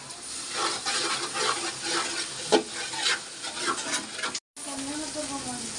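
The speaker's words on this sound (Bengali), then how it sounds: "পেঁয়াজের সাথে সাথে নারকেল আর কাঁচামরিচ বাটাটাও আমি একটু ভাইজা নেব সুন্দর করে" Onion frying in a pan with coconut and green chili paste, sizzling and being stirred steadily at close range, with scraping strokes and a brief cut near the end.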